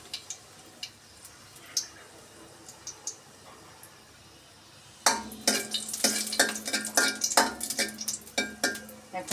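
A halved dried red chilli dropped into a little hot soybean oil in a wok, a quiet lull of faint clicks giving way to a sudden crackling, spitting sizzle that continues close and loud, with no speech.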